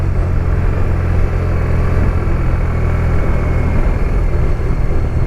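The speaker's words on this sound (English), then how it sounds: "Lovely sound. You cannot fault a boxer engine in any shape, way or form." A 2022 BMW R1250 RT motorcycle's boxer engine runs steadily throughout, a loud, even low rumble with no gaps and no talking.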